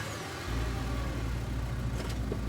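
A truck engine turns over and settles into a steady mid-pitched rumble inside the Scarlet Hollow game, starting abruptly after a brief lull and continuing loud and close, with no speech.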